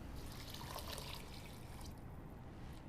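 Water poured into a cooking pot holding rice and lentils, a steady close splashing and trickling that runs for about two seconds before easing to a quieter fill.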